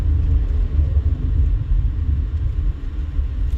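A car rolls along a worn, truck-battered road in East Las Vegas, giving a steady, loud low rumble of tires and engine with no break and no voices.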